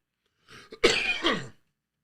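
A single short cough, close and clear, with a brief throat-clearing lead-in, then silence.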